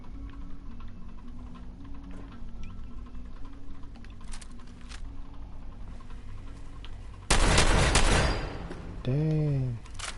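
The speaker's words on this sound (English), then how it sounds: "that shotgun's pretty good" Shotgun blasts in Fallout 4: a loud, close burst of heavy gunfire erupts after a stretch of low game ambience and faint clicks, followed by a sweeping electronic whine.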